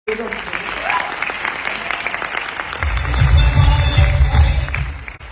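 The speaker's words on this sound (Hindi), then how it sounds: "देखो ताली" Audience applause at a direct selling event, many hands clapping steadily, with a speaker's voice over the start and a low crowd rumble swelling in the second half.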